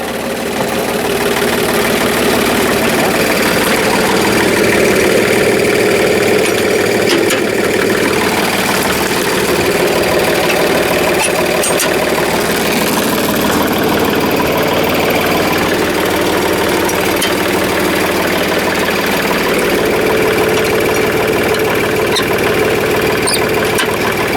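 A riding lawn mower engine, on a machine with a catastrophic failure, runs at a steady, loud idle close to the microphone for the whole stretch, with a knocking, vibrating edge and no talking.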